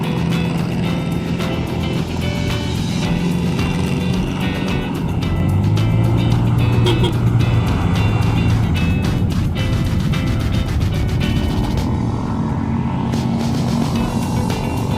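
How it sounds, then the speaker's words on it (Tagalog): Road traffic surrounds a motorcycle ride in Cavite, with a steady engine drone, passing vehicles and wind rumble blending into a loud, continuous wash, shifting in tone as the bike moves through congestion. "So medyo inabutan lang tayo ng traffic dito"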